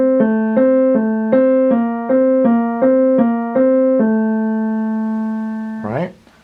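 Left-hand piano part from a beginner melody demonstration, plucked-sounding tones repeating in an even quick pulse of about ten notes before a final held note, ending with a brief rustle.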